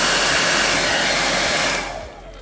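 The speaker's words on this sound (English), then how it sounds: "Should probably use a heat gun for this, but you know, everybody has a hair dryer." A hair dryer on its high setting blows a loud, steady rush of air while heating Velcro, then its roar drops away near the end.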